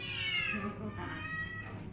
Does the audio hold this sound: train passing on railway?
no